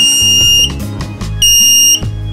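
A homemade clock with a gravity sensor beeps right after being plugged into a wall socket. Loud, piercing electronic tones repeat in short bursts over a low electrical hum, with a few clicks between them.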